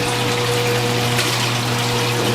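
A running dishwasher churns and sprays water in a steady, loud, continuous rush with a constant low motor hum and no voices.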